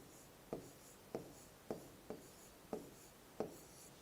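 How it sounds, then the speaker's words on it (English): Six distinct pen or chalk strokes tap and scrape against a writing surface at a steady, unhurried pace while a Sanskrit number word is written out, each stroke short and close, with no talk. "here I should write Trini."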